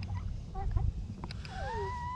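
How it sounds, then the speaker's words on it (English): A chicken gives a few quiet, high, wavering whining calls, fairly close, against a low background rumble. "One of these chickens is whining."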